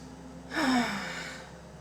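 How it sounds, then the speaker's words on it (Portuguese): A single deep breath drawn in during a guided reflexology session, a close, soft inhale lasting under a second and then fading into quiet room tone. "Vamos fazer uma respiração."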